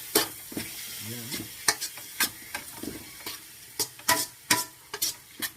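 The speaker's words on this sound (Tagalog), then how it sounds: "pwede na natin ilahok yung ating pork sa ating ginigisang bawang, sibuyas at luya" Pork hits a pan of sautéing garlic, onion and ginger, giving a soft sizzle broken by frequent sharp scraping and clacking of a utensil stirring, close by, with a brief spoken word.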